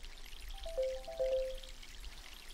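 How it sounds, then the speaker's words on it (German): Watering plants in the My Sims video game: a short, soft trickle of pouring water with a few light tonal blips, quiet and alone without talk. "jetzt einmal hier gießen"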